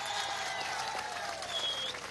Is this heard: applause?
yes